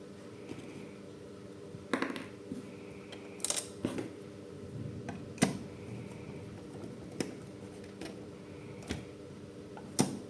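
Small metal screws are driven back into the casing of a Cisco IE 4650 mini PC, sharp scattered clicks and ticks of the screwdriver at irregular intervals over a quiet background.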